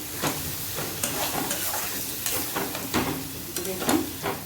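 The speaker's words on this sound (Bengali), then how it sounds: "এটা আমি ফ্রাই করবো।" Chicken fries in a pan, crackling and sizzling close by, with repeated scraping stirs that come in uneven bursts over a continuous hiss.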